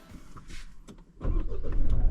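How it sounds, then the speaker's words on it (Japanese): A Mitsubishi Triton GSR with a 2.4-litre diesel turbo engine and four-wheel drive: a soft click and whir come first, then the engine cranks and catches into a loud, steady diesel idle close by. "それでは早速エンジンかけてみましょう"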